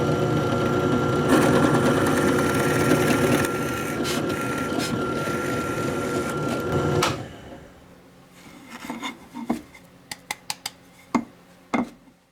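A drill bit bores through holes in a wooden stretcher with a loud steady whirring drone for about seven seconds, then stops, followed by a series of sharp knocks and clatters.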